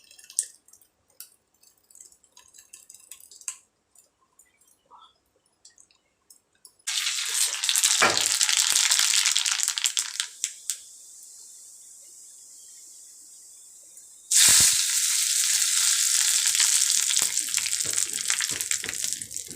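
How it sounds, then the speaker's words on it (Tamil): Mustard seeds, urad dal, asafoetida and curry leaves hit hot oil for a chutney tempering, giving two loud bursts of crackling sizzle with a calmer hiss between them, after a quiet stretch of small clinks. "இந்த சட்னிக்கு எண்ணெயில் கடுகு உளுத்த பருப்பு, பெருங்காயத்தூள், கருவேப்பிலை சேர்த்துருக்குறேன்."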